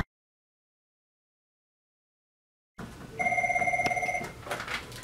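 A telephone rings once after a long stretch of silence, a short bright burst of bell ringing heard nearby, followed by some room noise.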